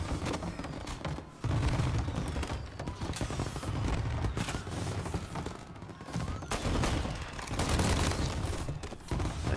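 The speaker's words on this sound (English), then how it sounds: "Tommy gun!" Tommy gun fire in the game Mafia Definitive Edition: loud, dense bursts of automatic gunfire with booming impacts, sustained across the clip with brief lulls between volleys.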